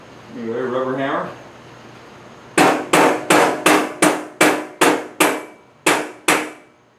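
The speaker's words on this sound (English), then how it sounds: "rubber hammer" Rubber hammer striking an exhaust pipe on a car, ten sharp evenly spaced blows after someone speaks briefly, each hit loud and close with a quick ringing decay.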